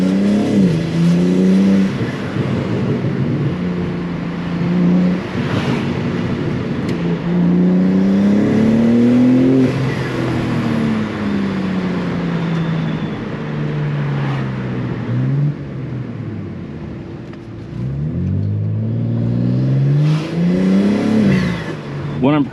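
A modified BMW G80 M3 with a loud aftermarket exhaust revs repeatedly on a test drive, its engine note climbing and falling in several sweeping pulls with a deep, raspy drone, close and loud, with talk underneath.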